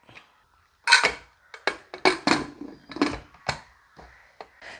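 A metal lid clatters onto a cooking pot during a liver fry preparation, several sharp clinks and knocks in quick succession, close and fairly loud with no talking.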